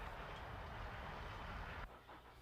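Cumbres & Toltec steam locomotive train in the mountains, a steady broadband rumble and rush of running gear, fairly close and continuous, easing slightly near the end.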